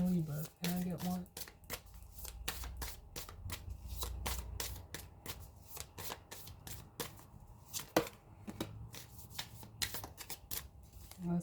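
Tarot cards are shuffled by hand in a steady run of crisp riffling and flicking bursts, close and fairly quiet, with brief spoken words breaking in near the start and around the middle.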